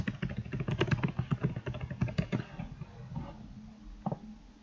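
Rapid clattering keystrokes on a computer keyboard, close and fairly quiet, typed in quick bursts that slow to a few scattered taps.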